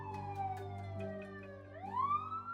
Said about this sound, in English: I can hear the sirens